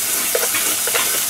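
Chashu pork sizzles in a pan for Jiro-style ramen with a steady, close crackling and popping, plus soft stirring or shifting sounds, with no talking.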